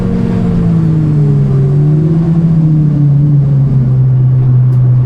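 A Mini race car on track accelerates hard under power, its engine droning loud and constant with a slowly rising and falling pitch, close and with no voices.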